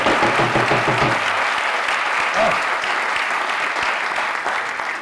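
Audience applauding a theatre company at a political candidacy presentation, a dense, steady wave of clapping that carries on throughout, with a voice briefly heard over the start.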